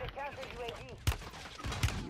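Gunfire in the battle royale game Warzone, a couple of sharp, loud shot bursts cutting through a dense mix of game sounds and overlapping voices.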